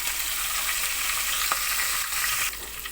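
Coriander powder, bay leaf and curry leaves fry in hot oil in a pan for a Maharashtrian amti, giving a close, steady sizzle that dips briefly near the end.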